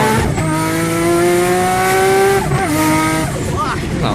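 Big-turbo Nissan Skyline R34 out on a street, its engine holding a loud, steady drone whose pitch climbs and then dips near the end, with voices over it.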